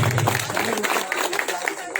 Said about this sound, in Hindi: एक बार बाबा साहेब जी के लिए जोरदार ताली